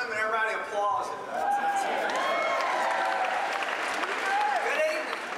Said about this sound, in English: You walk in the room and everybody applauds it.